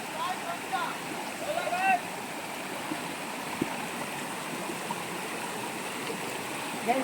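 Water rushing steadily over rocks at a village waterfall, a continuous broadband wash that stays even throughout, with a few faint voices calling briefly above it.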